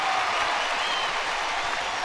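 Baseball stadium crowd of about 50,000 at a Rangers home game against Oakland, cheering a Rangers base hit: a steady, broad roar of applause and cheering throughout.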